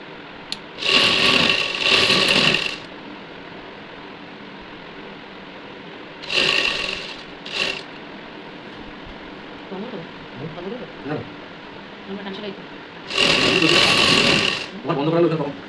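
A sewing machine stitches a housecoat in three loud whirring bursts separated by quieter gaps, with someone talking in between.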